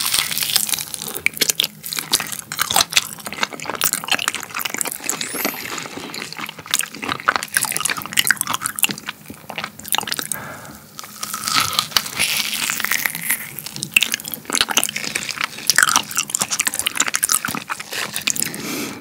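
Soft, creamy durian flesh is chewed up close in continuous wet, squishy mouthfuls with crinkly smacking bursts, steady and unbroken, with no talking.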